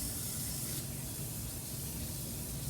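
Running tap water splashes steadily over hands being rinsed at a kitchen sink, a continuous broadband hiss with no voices.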